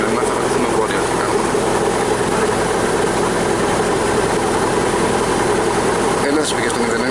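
A small aircraft's engine is brought up to full power before departure, making a loud, steady, continuous roar throughout, while people talk over it.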